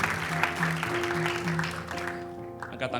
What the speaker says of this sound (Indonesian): Sekali lagi berikan tepuk tangan untuk Tuhan.